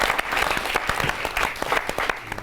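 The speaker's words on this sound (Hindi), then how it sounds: "जोरदार तालियों के साथ फिरोज सागर साहब को हम बुलाएंगे।" An audience at a Hindi poetry recital claps vigorously, a thick, continuous patter of applause from many people, fairly close and loud, with no speech over it.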